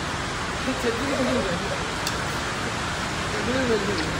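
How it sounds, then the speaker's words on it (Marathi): Steady hiss of rain at Kharghar station fills the scene, with a voice talking faintly beneath it in a couple of short bursts. "मस्त असा पाऊस लागतोय।"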